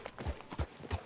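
Horse hooves clip-clop on a town street in Red Dead Redemption, three distinct, evenly spaced thuds close by over a low background.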